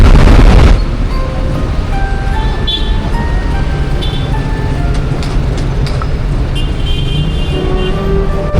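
Busy road traffic at an intersection on Calao Avenue in Manila, a steady dense rumble of engines with horn-like tones and passing vehicles, continuous and fairly loud, with no talk over it.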